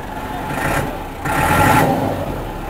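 Millat 385 Deluxe tractor engine running near a Lahore market, a steady mid-pitched diesel drone that swells in two short bursts as if lightly revved, with no voices.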